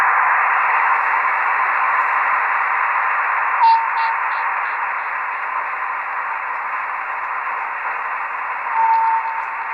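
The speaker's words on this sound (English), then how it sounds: "a loud sound, which is some white noise and a couple of meteor pings just to show what they sound like" Steady loud white noise from a radio receiver tuned to the Brams meteor beacon in Belgium, with a couple of brief pinging meteor echoes rising above the hiss, one around the middle and another near the end.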